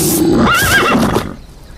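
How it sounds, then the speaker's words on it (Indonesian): Toy zebra letting out a loud recorded whinny, a single rising and wavering call lasting about a second that fades out quickly. "Lihat teman-teman, yang ini seekor zebra."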